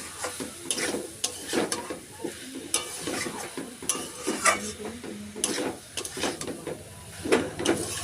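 Soybean curry with potatoes stir-fried on a low gas flame, a soft sizzle under irregular spatula scrapes and knocks against the pan, close by, with no talking.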